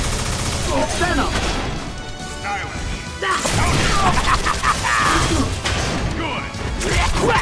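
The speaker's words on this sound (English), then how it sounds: "Target acquired! It's the big one! Proton cannon!" Iron Man's proton cannon super attack in Marvel vs Capcom, with a rapid barrage of blasts, crashes and heavy impacts, loud and layered under energetic game voice shouts and fighting effects.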